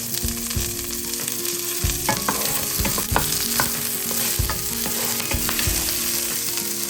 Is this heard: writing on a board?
no